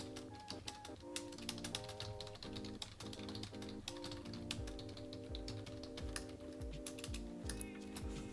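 Rapid clicking keystrokes on a computer keyboard entering a number into an online job application form, steady and close, over a continuous melodic music bed.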